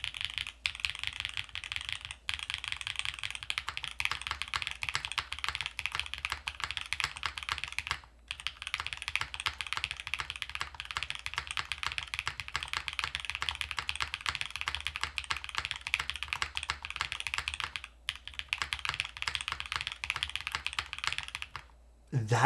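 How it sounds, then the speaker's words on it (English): Mechanical keyboard with Blue Cheese V2 switches, stock O-rings and an aluminum plate typed steadily for about twenty seconds, a dense, even clatter of close keystrokes with a few brief pauses. "So we're using blue cheese switches, the O-ring, it's a 58 O-ring, which is the stock O-ring, and an aluminum plate."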